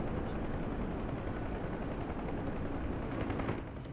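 Gunfire in the flight combat game DCS World: a dense, rumbling barrage of rapid shots mixed with a roaring engine drone, continuous and fairly loud throughout.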